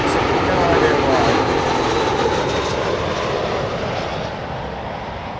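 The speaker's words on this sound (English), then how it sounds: "That's MEA, Middle Eastern Airlines, and that's coming from Beirut on an A320." A Middle East Airlines Airbus A320 arriving at Heathrow from Beirut produces a broad, steady jet roar that fades slightly over several seconds, heard at a distance outdoors with no voices.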